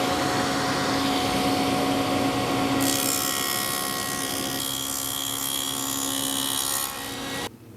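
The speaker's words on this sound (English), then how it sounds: "we'll just make a groove with the grain in cabinet grade plywood" A table saw fitted with a dado blade cuts a groove with the grain in cabinet grade plywood, giving a steady, loud whining roar that shifts in tone partway through and then stops abruptly near the end.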